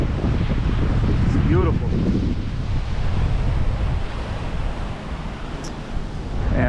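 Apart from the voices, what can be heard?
waves and wind at Punta Borinken Beach, Aguadilla, Puerto Rico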